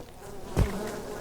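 Bees buzzing in the video game unExplored, a brief soft insect drone that swells once near the middle and fades, with no talk.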